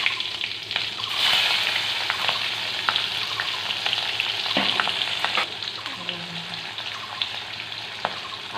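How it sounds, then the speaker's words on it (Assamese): Onions and green chilies frying in oil, a loud dense sizzle that flares up early then settles into a steady crackle, with a few light stirring scrapes. "এইবাৰ ৰৈ যোৱা তেলখিনিতে মই পিঁয়াজ দি দিম, কেঁচা জলকীয়া দুটা দি পিঁয়াজ দি দিম।"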